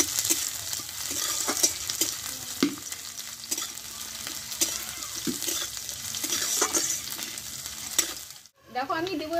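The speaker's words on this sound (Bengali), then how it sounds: "পেঁয়াজটা একটু কড়া করে ভেজে নেবো আমি" Half an onion frying hard in hot oil for a Bengali tomato bhorta, a steady bright sizzle broken by repeated clinks and scrapes of stirring, close and continuous with no talk, ending in a brief pause and a new burst.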